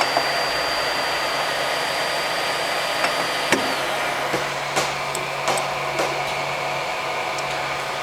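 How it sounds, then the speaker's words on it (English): An Ender 3 V2 3D printer fitted with a Co Print multi-filament module starts a print, giving a steady motor and fan whir with a high tone that drops away, followed by light clicks and taps from the moving parts. "Now what I have to do is I have to start the print from 3D printer as well."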